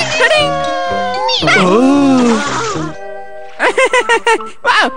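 A cartoon cat in the Ninja Hattori animated show gives loud, drawn-out yowling meows, then a quick run of short, choppy meows close up.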